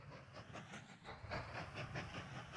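A train in the Mashinky railway game pulls away with a steady low rumble and a rhythmic clickety-clack of wheels over rail joints, faint and continuous, with no talk.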